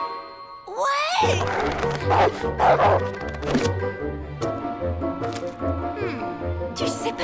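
Cartoon dog Rex barks repeatedly in short yips over a light, jingling music bed, with character voices heard around the barks.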